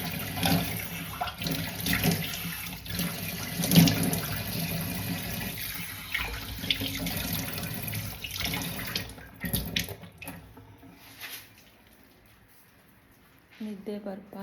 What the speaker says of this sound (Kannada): ನಿದ್ದೆ ಬರಬಾರ್ದು ಅನ್ನೋದಕ್ಕೋಸ್ಕರ ಸ್ವಲ್ಪ ಮುಖ ತೊಳಿಬೇಕಾಗತ್ತೆ